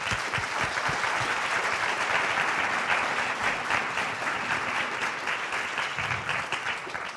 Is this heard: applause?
yes